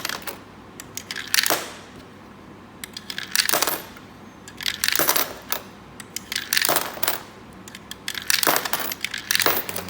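Coins dropping one after another into a 6-slot coin-operated machine, each a loud close metallic clatter and rattle in irregular bursts with quiet gaps between, no talking.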